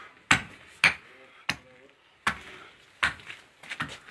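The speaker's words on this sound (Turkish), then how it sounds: "şu anda körüklü ocağında ütüleme işlemi yaptığı koyun başı ve ayaklarını çekiç yardımıyla tırnaklarını çıkartıyor" At a blacksmith's bellows forge, a hammer knocks the hooves off singed sheep's feet: six sharp, irregularly spaced knocks, close and distinct, with a faint voice in the gaps.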